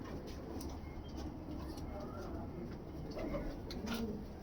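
Pigeons in a loft gallery giving soft, low, repeated coos, faint and somewhat distant against a steady background hum, with brief talk in the room.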